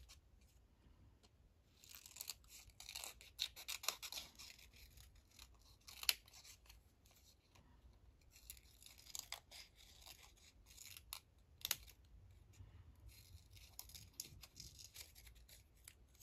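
Small pointed scissors snip scanned painted ledger paper for an envelope craft, a run of soft, close, repeated cuts and paper rustles at an irregular pace.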